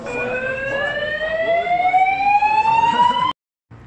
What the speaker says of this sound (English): There's been a fire alarm recorded in the building.